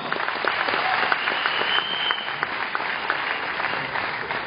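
Steady applause from an audience, many hands clapping continuously for several seconds with no talking.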